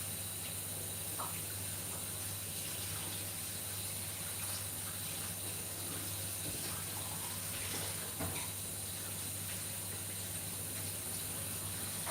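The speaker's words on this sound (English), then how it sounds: "I'm gonna just wash my potatoes" Tap water runs steadily into a sink while potatoes are washed, a constant close hiss with faint handling knocks and no speech.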